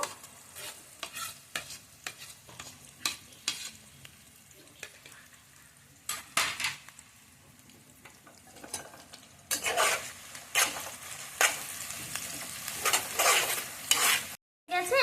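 Chopped onions, chopped garlic and ginger paste fry in a pan during soybean muitha cooking, a soft sizzle under repeated scraping and stirring strokes that grow louder and busier in the second half, ending with a brief cut to silence.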